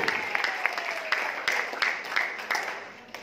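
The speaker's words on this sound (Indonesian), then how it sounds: "Kita berikan tepuk tangan buat Bapak Haji Ferdian Agung" Audience applause for Bapak Haji Ferdian Agung, leader of PT BEST, at a marketing plan presentation: a short burst of clapping from a modest crowd. The claps are scattered and irregular, and the sound slowly fades over about three seconds.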